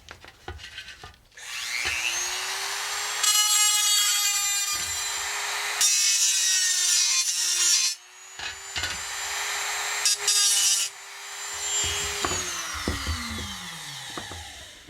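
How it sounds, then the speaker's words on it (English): Handheld grinder smoothing sharp cut edges on a DIY backpacking stove, a whining motor spinning up then biting into metal in several loud, close bursts before winding down, no talk. "I just take the grinder and grind off these really sharp edges where I cut through."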